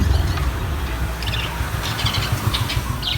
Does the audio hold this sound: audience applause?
no